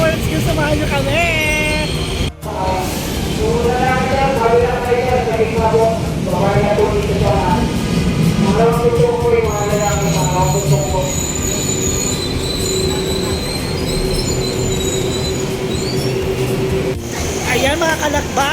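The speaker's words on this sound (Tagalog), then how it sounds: "tayo ay sasakay na doon sa tren" Metro train at Carriedo Station in Manila, heard from on board: loud, continuous rumble with long, shifting wheel squeals and screeches over the rails throughout, with a brief dropout partway.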